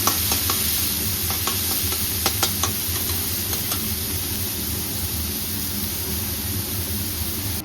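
Onions frying in oil in a pan, a loud, dense, continuous sizzle with occasional stirring scrapes and clicks close up.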